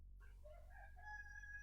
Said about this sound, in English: You hear that cock crowing in the background in the video?